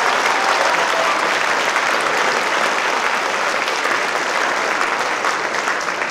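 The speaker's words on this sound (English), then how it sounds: "Give them a round of applause." An audience at a school district band concert applauds fifth-grade performers with steady, loud, continuous clapping throughout, no voices standing out.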